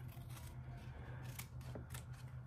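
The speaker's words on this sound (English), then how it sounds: "We're gonna cut on the dotted lines for where we want the wax strips to be." Scissors snip through wax strips along dotted lines, a few sharp close cuts spaced irregularly over a low steady hum.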